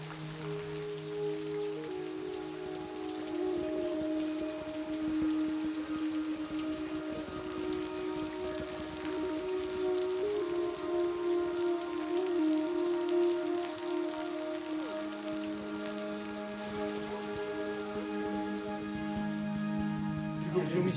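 Steady heavy rain hisses over the whole stretch at a foggy monastery during a masked dance ceremony, with tonal droning sounds layered on top, constant and moderately loud.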